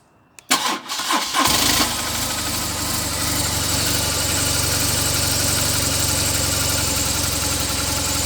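A 2009 BMW R1200GS motorcycle engine cranks briefly and catches, then settles into a steady, loud idle that runs on without a break.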